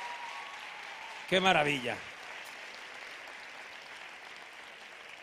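Applause from a concert audience for a singer, a steady wash of clapping running throughout, with a voice exclaiming briefly over it early on.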